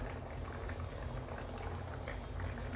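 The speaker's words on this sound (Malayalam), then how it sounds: "നന്നായി തിളച്ച് പാകമായിട്ടുണ്ട്." Akoli fish curry bubbles in a pot on the stove, a dense and steady simmering boil heard up close with no talk.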